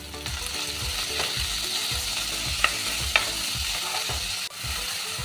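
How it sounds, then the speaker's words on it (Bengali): A large onion fries lightly with chicken in a pan, giving a steady, close sizzle throughout with stirring scrapes and a couple of sharp clinks, no talk. "পেঁয়াজটা হালকা ভেজে দিয়ে দেব এই মাংসটা।"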